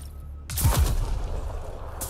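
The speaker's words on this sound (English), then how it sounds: "Call down a nuclear airstrike." A nuclear airstrike and gunfire in the video game Mass Effect Andromeda hit with a sudden loud blast, followed by rolling booms and a sustained, dense roar.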